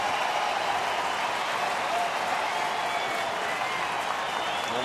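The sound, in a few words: baseball crowd cheering and applauding at the ballpark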